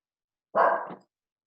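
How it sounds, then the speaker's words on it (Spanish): One dog gives a single sharp bark, close and clear, against silence. "Me silencio porque el perro ladra y cuando el perro ladra es como que domina toda la"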